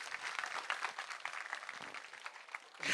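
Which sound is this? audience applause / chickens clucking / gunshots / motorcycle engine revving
audience applause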